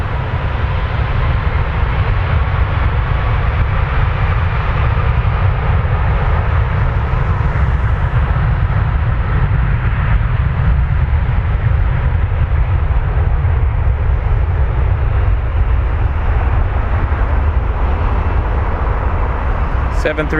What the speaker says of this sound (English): clear takeoff runway 23 now, Air Canada 842